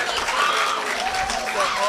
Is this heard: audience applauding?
yes